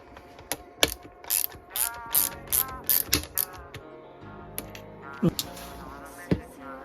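Ratchet wrench tightening a bolt on a Yamaha 125 YZ motorcycle engine, heard as a series of close, clicking ratchet bursts in an uneven rhythm with occasional louder knocks.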